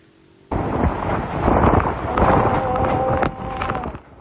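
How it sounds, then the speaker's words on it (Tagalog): Typhoon Opong's wind and rain batter Roxas, Oriental Mindoro, starting abruptly as a loud, roaring gusty wash with buffeting on the microphone, sustained for several seconds before dropping off. "Ganito na ang hangin at ulang bumayo sa Roxas Oriental Mindoro ilang sandali bago ang landfall ng bagyong Opong sa probinsya"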